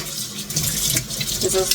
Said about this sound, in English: So we're going to put them on, rinse them off.